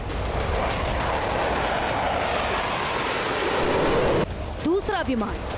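An Israeli fighter jet roars loudly overhead in a dense, continuous rushing blast that cuts off abruptly near the end. A voice then speaks over quieter sound.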